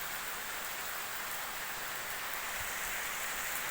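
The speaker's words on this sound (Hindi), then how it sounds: "काफ़ी ज़ोर से बारिश हो रही है।" Heavy rain pours steadily during flooding in Punjab, a dense, constant hiss of water without pause and with no voices.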